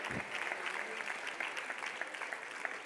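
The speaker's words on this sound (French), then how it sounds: "applaudissez-les" Audience applause in a conference hall, a steady broad patter of many hands clapping throughout with no voices standing out.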